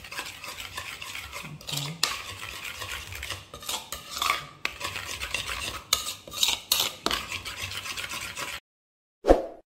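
A utensil stirs spicy stir-fried squid in a pan, a continuous close scraping and rubbing with a soft sizzle beneath, ending in a brief pause and one short spoken word.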